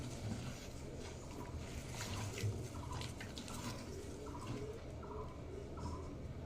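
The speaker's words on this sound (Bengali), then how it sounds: "যতটা পরিমাণে করব ততটা পরিমাণে এই জলটা দেব" Water pours steadily into a vessel for a homemade summer drink, a continuous close splashing trickle that holds at an even level throughout with no voices.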